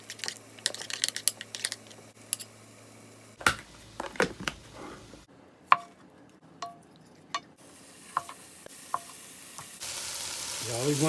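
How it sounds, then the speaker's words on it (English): Sausage meat with salt, pepper, mint and rosemary sizzles and fries in a pan, crackling sharply in bursts with louder clicks and stirring knocks, then rising into a steady hiss. "Once it starts sizzling and frying, chop it up a little more."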